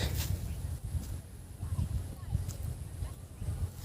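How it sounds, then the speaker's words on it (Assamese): Wind gusts steadily across open rice fields near a village bamboo bridge, a low rumbling buffet on the microphone pulsing throughout without any voices. "ইমান ধুনীয়া বতাহ মাৰি আছে ইয়াত।"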